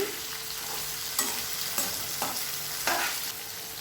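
Boiled broad beans being gently turned in a frying pan, a steady close sizzle with a few soft spatula scrapes and knocks spaced through it, no voices.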